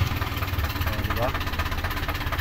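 A motorcycle engine with a faulty ampere gauge connection, just started after hard starting, idles in a close, pulsing low rumble; a voice speaks briefly over it.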